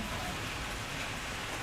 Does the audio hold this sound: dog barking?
no